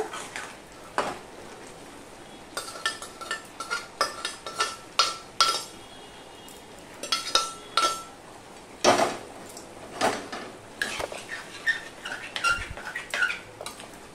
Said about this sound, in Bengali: দেখো বন্ধুরা চানাগুলো দিয়ে সম্পূর্ণটা আমি মিশিয়ে নিলাম।